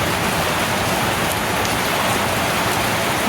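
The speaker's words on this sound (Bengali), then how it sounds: "ও হো বৃষ্টিতে স্নান করছে দেখো" Steady, dense rain pours down close by without a break while a pet cockatiel bathes in it outdoors, a loud, even hiss of drops striking surfaces.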